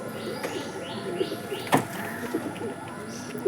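Adult pigeons coo softly as they are fed, several overlapping calls in a steady rhythm over a low indoor hum, with one sharp clatter midway.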